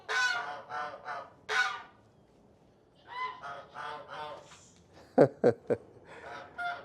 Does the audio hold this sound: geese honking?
yes